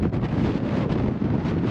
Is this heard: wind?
yes